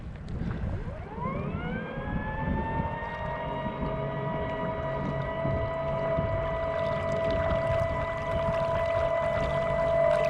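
An electric fin motor on a stand-up paddleboard spins up in sport mode, its whine rising quickly in pitch and then holding a steady, loud, tonal hum with no talking.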